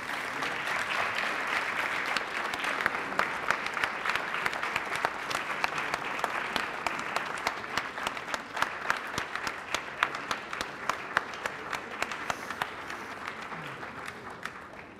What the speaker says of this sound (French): on peut continuer à applaudir